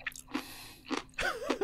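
Crunchy chewing and slurping from an AI-generated clip of Will Smith eating spaghetti, made with Google Veo 3: several short, close, moist bursts of mastication in quick succession, with a brief sliding vocal-like squeal near the end.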